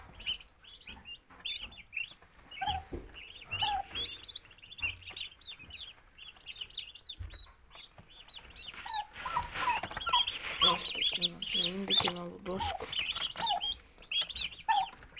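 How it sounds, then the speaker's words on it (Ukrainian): Turkeys gobble and cluck nearby, several birds calling repeatedly, growing louder and more frantic toward the end. "Ось такі індики у нас."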